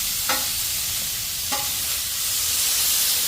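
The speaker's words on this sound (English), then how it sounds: "This is just simmering down here." Zucchini and onions sizzle steadily on a smoking-hot grill, with a broad frying hiss throughout and two brief scraping clinks of a utensil.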